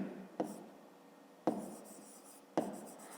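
A pen scratches on paper during a fifth-grade maths exercise, three separate strokes each starting with a sharp tap and trailing off, close and quiet.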